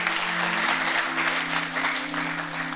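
A church congregation claps together in sustained applause at a worship service, dense and steady throughout, with a held musical tone sounding beneath the clapping.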